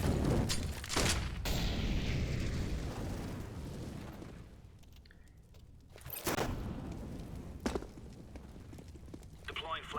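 A flashbang grenade detonates in Counter-Strike on the Mirage map, giving a sharp burst amid ongoing gunfire and footsteps, with several loud transient bangs over a busy background of game noise.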